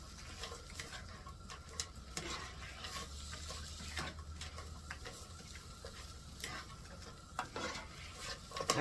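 Ground beef frying in a pan while being stirred, a constant crackling sizzle with scraping of a utensil and occasional clinks against the pan.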